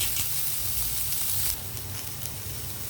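Onions and carrots sizzle steadily in hot oil in a pan while cooking for ragi semiya upma, a close, even frying hiss with no talking.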